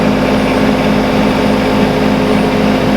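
A new 2020 Yanmar Vio25-6A mini excavator idles with a steady, even diesel hum, loud and close, with no change in pitch over a few seconds.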